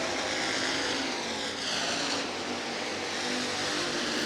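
Hobby stock race cars motor down the front straightaway of a clay county fair speedway, a steady distant engine roar that swells slightly as the pack passes, with no voices.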